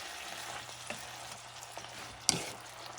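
Ingredients for a tuna appetizer cook in a pan until softened, with a faint steady sizzle, a few soft stirring scrapes and one sharp clink near the end, heard close and alone.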